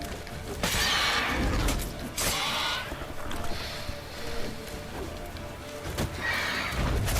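Roach, the horse in The Witcher 3, gives a loud, drawn-out whinny over constant in-game noise, with bursts of hoof clatter and movement around it.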